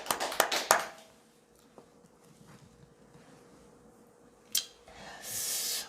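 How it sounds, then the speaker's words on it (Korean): A brief burst of applause in a church congregation, a quick flurry of claps that fades fast, leaving a quiet room with a few faint taps and a later swell of noise. "하나님 앞에 영광의 박수"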